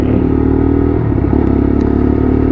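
A Lexmoto LXR 125cc motorcycle engine runs loud and close on a test ride, a steady droning rumble with a slight change in pitch partway through.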